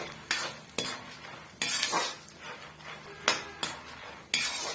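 Peanuts and roasted gram dry-roasting in a pan for masala puffed rice, a spoon sweeping through them in repeated scraping strokes with rattling grains and occasional clinks against the metal.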